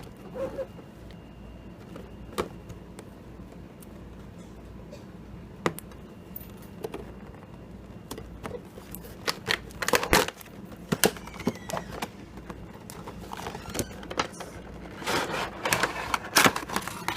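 Hands work at opening a taped cardboard figure box, with scattered sharp crackles, scrapes and tearing snaps growing busier toward the end over a quiet room hum.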